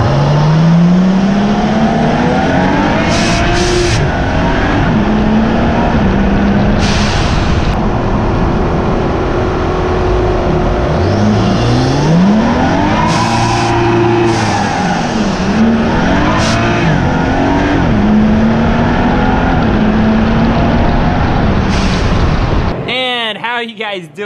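A BMW 435i drives hard, its engine loud and close throughout with rising and falling revs through gear changes and a continuous road roar, ending in an abrupt cutoff.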